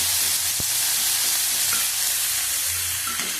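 Onion paste fries in hot oil for a potol and chicken dish, a steady close sizzle with broad hiss throughout, punctuated by a few sharp scraping clicks of a spoon stirring the pan, with no voices.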